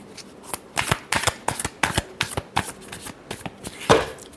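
Tarot cards being shuffled by hand at close range: a string of crisp riffling flutters and taps in irregular bursts over about four seconds, with no talk over them.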